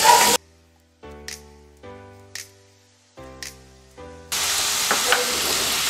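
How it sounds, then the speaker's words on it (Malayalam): Carrot, beans and onion sauté in coconut oil for homemade spaghetti, giving a loud broadband sizzle at the start and again steadily at the end, with a few clear melodic tones in the quiet gap between. "ക്യാരറ്റ് ബീൻസ് സവോള ഇത് മൂന്നും കൂടെ നന്നായിട്ട് വഴറ്റിയെടുക്കുക"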